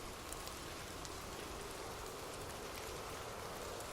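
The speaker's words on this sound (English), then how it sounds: "Imagine gentle raindrops falling softly on leaves" Gentle rain falls on leaves as a steady, soft, even hiss with faint scattered droplet ticks, continuous and unbroken, with no voices.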